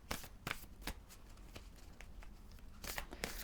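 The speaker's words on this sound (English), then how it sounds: "Let's have a Whispers of Love card for you, Leo." Oracle cards are shuffled close up for a love-themed reading, with a run of quick, crisp riffling bursts that are faint and soft. No one speaks.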